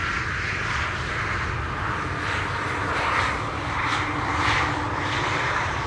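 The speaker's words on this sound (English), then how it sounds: "it also looked like the pilot encountered a bit of a breeze right before the touchdown" Large airliner arriving on Schiphol's Polderbaan runway 18R in a light breeze, a steady, loud engine roar that swells slightly midway and holds close throughout with no talking.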